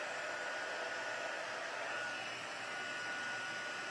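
A heat embossing tool blows hot air over stamped two-tone cardstock, a steady, close, hissing whoosh that runs unbroken throughout with no talking.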